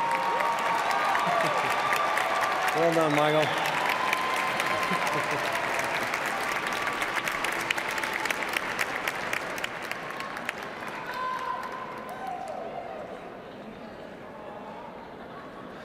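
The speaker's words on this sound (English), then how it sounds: "how about a big round of applause for Michael Bradley and for doing all the names?" A large crowd at a College of Health Sciences graduation convocation applauds in a sustained, dense roar of clapping that slowly thins. Scattered chatter and a brief spoken remark come through underneath.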